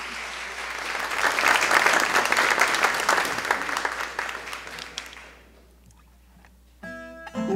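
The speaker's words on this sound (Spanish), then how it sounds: "Un aplauso." At a concert of the XXI Andean Colombian music festival, an audience applauds loudly for several seconds, swelling then fading away to near silence before a voice starts speaking at the end.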